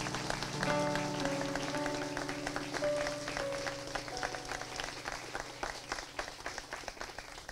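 A wedding ceremony crowd applauds with steady, dense clapping that fades slightly, layered over sustained musical tones.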